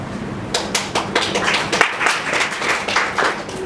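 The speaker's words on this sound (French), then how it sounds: "On vous a compris pourquoi on a applaudi." An audience at a televised quiz-show finale breaks into loud, dense applause, many hands clapping steadily and close for a few seconds with no talk over it.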